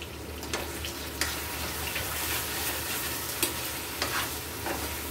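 Potato pieces fry and get stirred through a mutton curry masala, giving a steady close sizzle with occasional scraping stirs and no talk.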